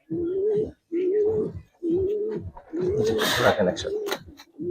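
Giribaz pigeons cooing in repeated low, throaty phrases, several in a row with short gaps, close by, while someone speaks over the later coos.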